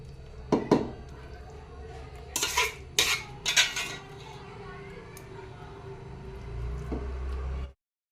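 Gajar halwa, a carrot sweet, is being plated with clinking dishes and cutlery: several sharp metallic clatters and scrapes close by, followed by a softer steady rustle that ends abruptly.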